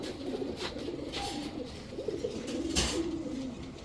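Maxi racer pigeons, a male among them, coo in a loft: low, throaty rolling coos repeat close by against a faint background murmur.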